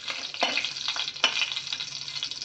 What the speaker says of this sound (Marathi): हे खडे मसाले जे आपण घेतले आहेत ते थोडे परतायला देऊया